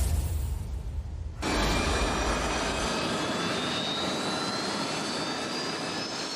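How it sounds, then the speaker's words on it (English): A jet trainer aircraft's engine roars loud and steady at close range before a takeoff over London, with a rising whine riding on the sustained blast throughout. "As a jet aircraft trainer and its pilots prepares to take to the skies over London"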